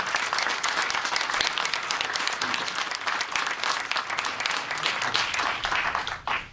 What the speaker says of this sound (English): these folks up here in a minute should get a big round of applause